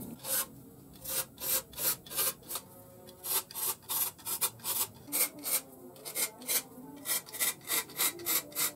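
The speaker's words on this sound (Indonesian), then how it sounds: "Semua gigi dikikir, tidak ada yang dilewati." A hand file rasps across the teeth of a manual wooden rip saw during sharpening, giving a steady series of short, close, crisp strokes that repeat roughly twice a second with no talking.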